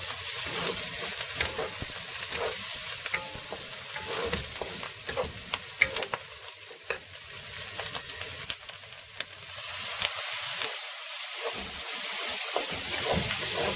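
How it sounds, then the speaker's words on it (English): Soaked, drained and lightly chopped dried shrimp stir-fried in a pan give off a steady, close sizzle throughout, with scraping and stirring clatters scattered on top. "Because I want to stir fry the dried shrimp."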